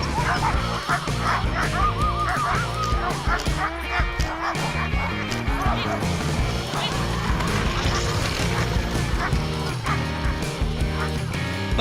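Sled dogs in harnesses in Greenland bark, yip and howl excitedly in a dense, continuous chorus. The loud, overlapping calls fill the whole stretch without pause.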